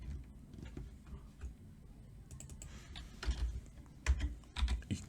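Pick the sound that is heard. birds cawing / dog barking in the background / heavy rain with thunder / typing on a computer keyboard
typing on a computer keyboard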